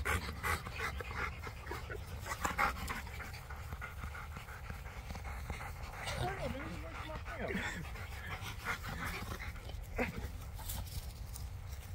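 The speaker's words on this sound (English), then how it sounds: "control the dog, yo" A dog pants rapidly and lets out soft whimpers, close by, amid faint background noise while people talk intermittently throughout.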